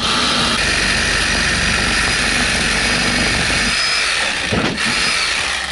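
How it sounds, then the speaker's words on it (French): A loud, continuous power-tool roar with a rapid buzzing rhythm, a coarse-toothed reciprocating saw cutting into a straw house, briefly dipping near the end before resuming. "scie sabre avec des grosses dents, c'est un peu la seule solution efficace"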